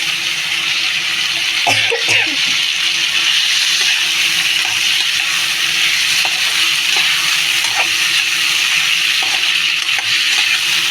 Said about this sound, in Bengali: বন্ধুরা এবারে এই চানাগুলো ঢেলে দেবো